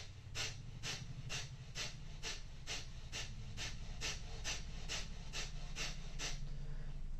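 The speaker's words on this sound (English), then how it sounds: "That's breath of fire" Breath of fire breathing exercise: a quick, even run of about a dozen sharp forced exhales through the nose, puffing rhythmically and close up with no talking.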